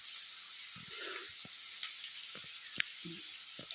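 Chopped onions sautéing with salt in a hot pan for a Konkan taakla leafy vegetable dish, giving a steady bright sizzle broken by soft stirring scrapes and taps close by.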